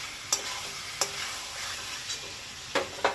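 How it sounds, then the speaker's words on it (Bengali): Prawns sauté in a spice paste in a pan with a quiet steady sizzle, broken by a few sharp scrapes of a spoon against the pan, near and fairly faint, with no talking. "এবারে এই কষার সাথে চিংড়ি মাছটা যেমন ভালো করে কষাবো"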